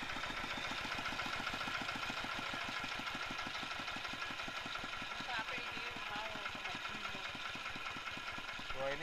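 Diesel engine with balancer technology idling slowly and steadily close by, an even low rhythmic chug throughout that carries on without a break.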